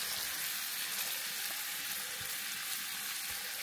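Carrots cooking in a pot with coriander hiss in a steady, fairly soft sizzle that holds evenly throughout, as if a little water has just gone in.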